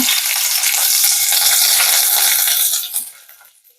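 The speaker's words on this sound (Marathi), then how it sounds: "मोहरी पण चांगली तडतडली पाहिजे" Loud, dense crackling and sizzling of mustard seeds popping in hot oil for a tempering, continuous for about three seconds before fading away.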